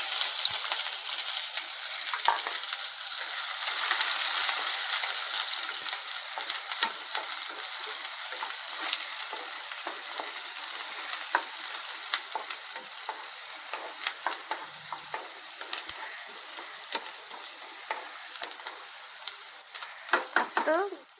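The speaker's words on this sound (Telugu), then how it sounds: "ఫస్ట్ ఎప్పుడైనా సరే ఎర్రగడ్డ తొందరగా వేగదు కాబట్టి కొంచెం సాల్ట్ వేస్తే మెత్తగా వేగిపోద్ది" Onions frying in hot oil in a pan, a continuous crackling sizzle with occasional stirring scrapes and clinks, louder early on and gradually settling, with a few sharper taps near the end.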